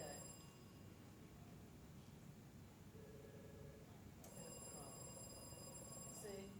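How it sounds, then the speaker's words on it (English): A telephone rings with short bursts of high, bright electronic tones over a low background hiss, faint and sounding somewhat distant. "I should have picked up the phone."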